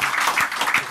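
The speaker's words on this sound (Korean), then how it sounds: "박수 한번" An audience at a municipal directors' meeting applauds after a speaker finishes. The burst of clapping is brief and fairly loud.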